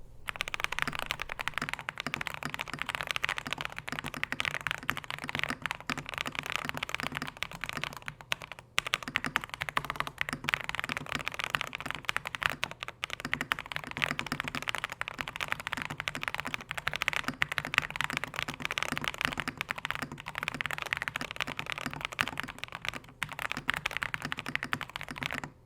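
Rapid, continuous clacking comes from typing on a Class80 mechanical keyboard fitted with foam and tape, steady and close with a deeper sound profile and no talking.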